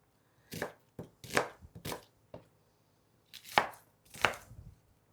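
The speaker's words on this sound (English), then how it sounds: "just kind of chop them up. Just some chopped onions." Knife chopping a medium onion on a cutting board in a home kitchen, with two quick clusters of several crisp, close chops separated by a short pause.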